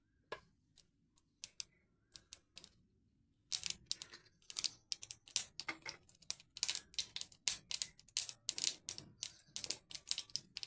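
Mustard seeds crackle in hot oil while tempering for a sprouted moong usal, starting as sparse pops and then turning into dense, sharp, irregular spattering crackles, close and alone.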